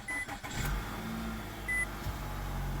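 A Nissan Rogue, Sentra or Altima push-button start gives two short, thin beeps about a second and a half apart, followed by a low rumble as the engine comes to life in a quiet cabin.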